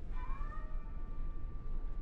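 A kitten meows with a rising, drawn-out cry near the start, set against steady low background noise from a home where a game is being played.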